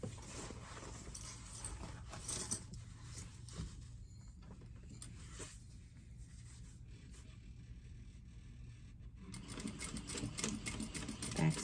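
A sewing machine running in bursts while it top-stitches and back-stitches a tote bag seam, giving a fast, even mechanical whir that stops for a pause in the middle and then starts again.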